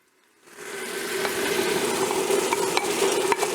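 Rice tipped into pork and rendered fat in a Ninja Foodi Deluxe pot, then a steady sizzle with scraping stirs and light utensil clinks, starting from quiet.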